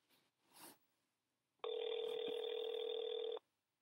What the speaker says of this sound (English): So I'm gonna dial it.